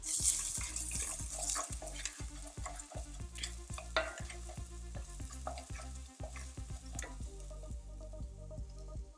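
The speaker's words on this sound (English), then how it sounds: "that's gonna saute until it's golden brown" Chopped garlic sautés in a pan until golden brown, a steady soft sizzle under repeated rhythmic stirring and scraping strokes throughout.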